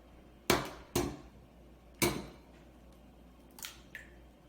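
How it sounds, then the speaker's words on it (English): An egg cracked for baking: a few sharp, close taps against a hard edge, spaced apart, followed by a fainter crack and a small shell sound, in an otherwise quiet room. "Next, I'm going to crack the egg."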